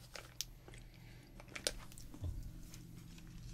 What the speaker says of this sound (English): let us venture into chewing. Lots of chewy things.